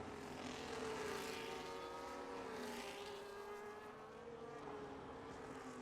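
Race cars in a sim racing game at Singapore, a Williams overtaking an Aston Martin: a steady, faint engine drone with a gliding, shifting pitch as the cars pass, heard alone without talk.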